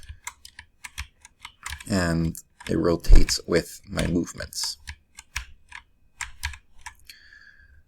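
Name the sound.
pressing arrow keys on a computer keyboard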